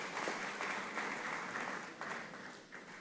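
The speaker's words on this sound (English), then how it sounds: "A round of applause for that." Sustained applause from a conference audience at a courthouse summit on alternative dispute resolution, steady dense clapping at moderate level with slight swells, no talking over it.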